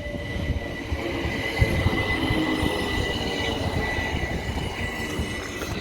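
A Class 387 electric passenger train, formerly in GN service, slows to a stop at a West Sussex station. Close, steady rumble of wheels and rails with a brief wheel squeal, and no one speaking.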